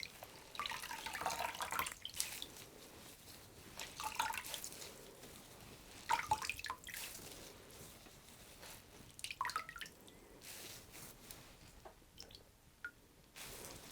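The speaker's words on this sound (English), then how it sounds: "This is obviously going to take quite a bit more rinsing" Naturally dyed fibre being rinsed by hand in water, gently squeezed rather than wrung: intermittent splashing, dripping and squelching close by, rising and falling in bursts throughout, with no talking.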